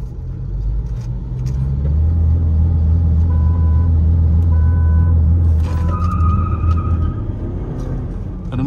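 A VW Virtus Stage 1 and a Chevrolet Cruze idle side by side at the start of a drag race round, a steady loud engine rumble swelling slightly, with a beeping tone and a brief hiss partway through.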